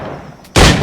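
A single sharp gunshot cracks out in Assassin's Creed IV Black Flag, loud and sudden after a quiet moment of low background ambience.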